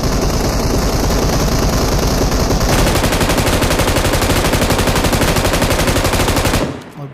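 Gunfire in the PUBG video game, loud and close: dense, rapid automatic bursts that run almost without pause for about seven seconds, with the firing rhythm shifting partway through before it cuts off.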